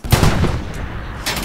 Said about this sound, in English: 6 rounds going on the same spot